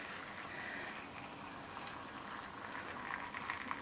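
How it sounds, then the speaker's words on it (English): Boiling water pours steadily into canning jars of overnight-soaked pinto beans, a continuous liquid rush and gurgle heard up close, with no talking. "I have some boiling water here"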